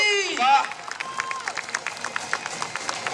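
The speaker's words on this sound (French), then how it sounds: "On l'applaudit." An audience applauds at a live fire-walking show, with scattered hand claps forming a steady, lively patter over several seconds under a speaking voice.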